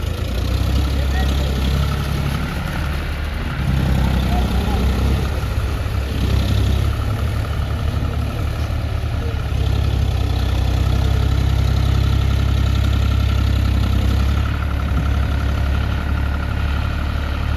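A tractor engine idles in a farm field with a steady low rumble close by, running continuously while voices talk intermittently over it.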